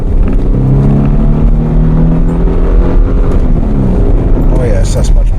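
Mitsubishi Shogun 3.0 V6 engine revving on the accelerator after a throttle cable adjustment, a close, loud engine whose pitch rises and falls across a couple of revs in a steady drone.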